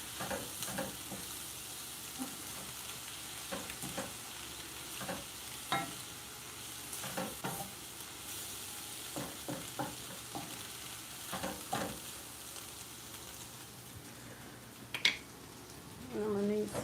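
Vegan fried rice ingredients sizzling in a pan at a low, steady hiss, broken by repeated scraping stirs and a few sharper clinks, with a person talking at times.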